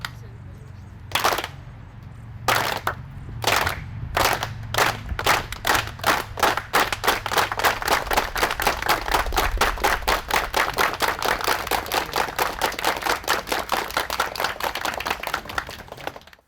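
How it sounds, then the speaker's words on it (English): An audience claps in unison for a unity clap, starting with slow, widely spaced claps that steadily quicken into a fast, dense, continuous rhythm. "Let's do a unity clap. We're gonna start off real slow, and then we're gonna work our way faster and build up the momentum"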